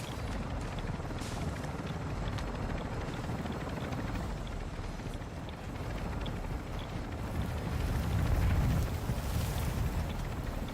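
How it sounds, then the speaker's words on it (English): Call of Duty DMZ enemy attack helicopter drones in as a steady, dense rotor rumble that swells slightly louder toward the end, with no talk over it. "the enemy attack helo is approaching your location"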